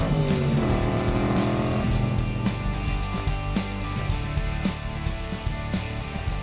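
A Factory Five kit car drives along with a loud, steady engine drone and shifting rev tones, heard up close from start to finish.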